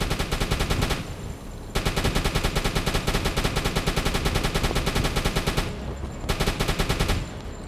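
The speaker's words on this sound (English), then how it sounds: "So instead I have to use my AA gun." Anti-aircraft gun on a U-boat firing at a ship in the submarine game Uboat: loud, rapid sustained bursts of automatic fire with two short breaks, close and alone.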